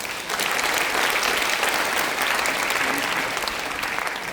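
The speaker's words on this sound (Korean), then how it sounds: "하나님께 영광의 박수 올립니다." A church congregation at a missionary and pastors' spiritual conference breaks into loud, sustained applause for several seconds, dense and even.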